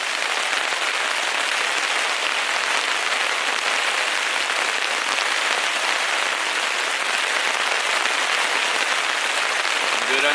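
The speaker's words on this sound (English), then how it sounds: "the rain has started" Rain drums steadily on an octagon tarp shelter overhead, a dense, even hiss of drops that stays loud and unbroken throughout, with no talking.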